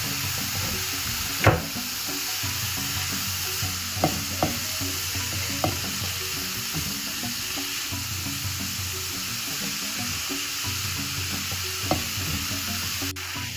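Soya chunks fry in a pan with a steady, close sizzle, while a spoon stirs them now and then, making a few sharp scrapes and clinks across the texture.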